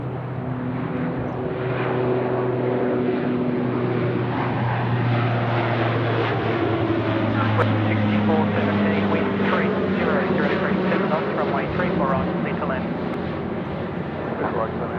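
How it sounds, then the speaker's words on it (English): Q-Link Dash 8 turboprop departing Sydney Airport, a loud droning propeller roar with shifting engine tones that swell and hold across the whole stretch, while someone talks over it. "as we enjoy this wonderful Dash 8 departure, the Q-Link departure on 34 right"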